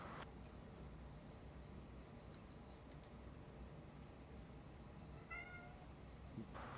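A cat meows faintly a few times in a quiet room, thin high calls standing alone against a low hum, with no talking.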